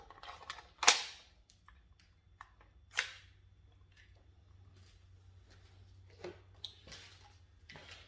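T8.1 CO2 airgun with a Labco 9-inch barrel and mock suppressor firing an HP68 pellet on fresh CO2: one sharp, loud crack early, a second strong snap later, and a few fainter clicks between.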